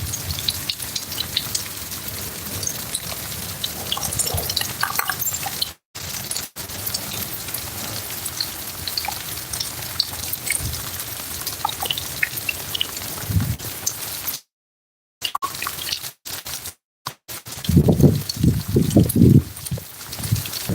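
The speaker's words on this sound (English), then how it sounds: "Pouring in rain everywhere right now." Heavy rain pours down outdoors with wind blowing, a dense, continuous hiss of drops striking surfaces, briefly broken by a few abrupt cutouts and louder patter near the end.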